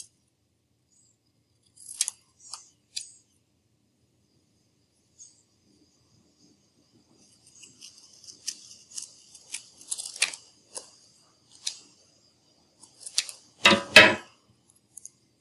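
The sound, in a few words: cutting paper Baby Yoda ears with scissors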